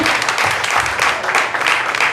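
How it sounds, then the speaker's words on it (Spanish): A crowd applauds loudly and steadily, dense clapping filling the whole moment close by. "denle un aplauso a todos los salmistas, por favor"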